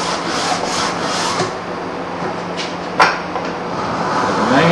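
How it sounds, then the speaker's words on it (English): Metal file drawn back and forth across a steel hand scraper, a continuous close rasping scrape with a slight knock near the middle. "put your file here on the top and just draw it back and forth till you feel that it's pretty flat"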